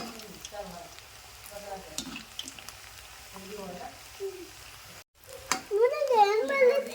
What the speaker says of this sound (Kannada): ಮೀಡಿಯಮ್ ಫ್ಲೇಮ್ ಒಳಗೆ ಫುಲ್ ಕ್ರಿಸ್ಪಿಯಾಗಿ ಬರೋಂಗೆ ಫ್ರೈ ಮಾಡ್ಕೊಂಡು ತಗೋತೀನಿ ರೀ